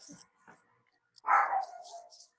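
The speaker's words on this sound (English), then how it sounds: "The dogs are a bit wild." Dogs barking and yelping indoors, a couple of short faint yips followed by one louder, drawn-out bark-whine, with silence between.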